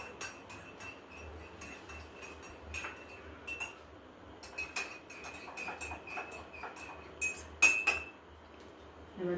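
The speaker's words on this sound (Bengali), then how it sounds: "এবার এটাকে নাড়িয়ে দিলাম।" A spoon stirs black tea in a cup, giving a run of light metallic clinks and taps against the cup in an uneven rhythm, close and fairly quiet.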